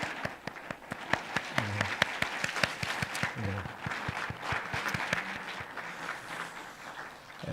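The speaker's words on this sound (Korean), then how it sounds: "박수 소리가 조금 작았는데요" Church congregation clapping for the pastor and his wife, a modest crowd's sharp, irregular claps building and then thinning out, with a few voices underneath.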